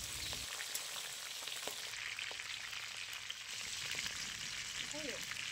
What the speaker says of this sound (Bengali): কড়াইতে তেল গরম করে এর মধ্যে কুচি করে রাখা তেজপাতা, তারপর কেটে রাখা কাঁচা লঙ্কা দিয়ে আমরা একটু নেড়ে চেড়ে নেব